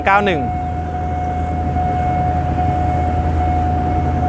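Train no. 391 approaching the Phet Uthai Road railroad crossing, a steady low rumble with a sustained tonal hum from the crossing, opened by a brief rising horn-like wail; a voice talks at the start.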